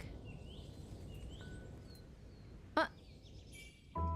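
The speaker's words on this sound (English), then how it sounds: "One of the birds that you can hear here sounds like one from my childhood too" Birds call in the Tiny Glade video game: several soft chirps and whistles over a steady ambient bed, then a brief sharp burst near the end.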